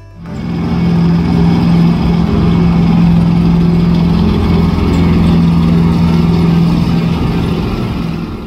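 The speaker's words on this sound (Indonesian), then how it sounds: "Tank baja." A toy steel tank's motor starts up and whirs continuously with a steady mechanical drone and ratcheting gear rattle, loud and close, no talk.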